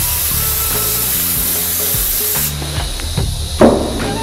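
LIQUI MOLY universal cleaner sprays onto a sanded car headlight in a loud, continuous close hiss, then a brief hissy burst near the end, with no talking.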